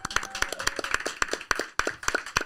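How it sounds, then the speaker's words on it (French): A small group claps for guest Mehdi Ryan in a podcast studio: close, crisp handclaps in a quick uneven rhythm for a couple of seconds. "Il s'appelle Mehdi Ryan et on l'applaudit."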